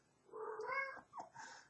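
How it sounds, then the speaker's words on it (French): A domestic cat meows indoors near a computer, one drawn-out wavering meow followed by a shorter second call, close and fairly soft in a quiet room. "c'est mon chat qui vient."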